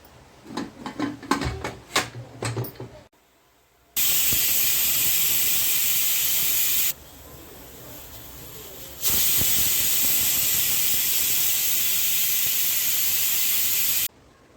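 A pressure cooker holding chickpeas and peanuts lets off steam in two long, loud, steady hisses separated by a quieter pause, preceded by some faint clattering.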